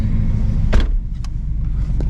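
Big truck running on E85 fuel outdoors, a heavy constant low engine rumble with a couple of brief sharp knocks or clicks over it, no talk.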